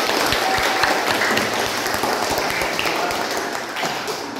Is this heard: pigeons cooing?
no